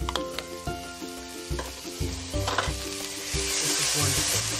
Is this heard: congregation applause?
no